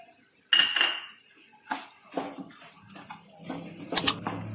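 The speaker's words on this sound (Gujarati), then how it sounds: "બટાકાને આપણે આ રીતે સારી રીતે મિક્સ કરવાના છે" A spoon stirs boiled mashed potato filling for bread pakoda in a bowl, with green coriander mixed in. It makes close, intermittent scrapes and clinks against the bowl in short bursts, with a busier cluster of knocks near the end.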